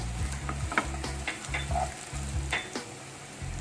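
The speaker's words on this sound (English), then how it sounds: "we are going to add now some curry leaves and green chili and mix it" Browned onions sizzle in a pan with curry leaves and green chili for prawn biryani while a spoon scrapes and stirs in repeated strokes over a constant frying hiss, close up.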